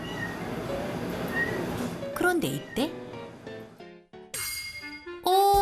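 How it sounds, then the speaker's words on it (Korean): A cat meows several times from a spot above a cafe, clear harmonic cries arriving in short bursts after a stretch of quieter background; a person speaks briefly in the clip as well. "오, 이건 다른 고양이 소리."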